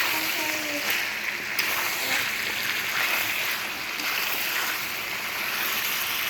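Water pours steadily into a pot of country chicken curry with potatoes, giving a continuous close rushing hiss that lasts throughout, with no clear talk over it.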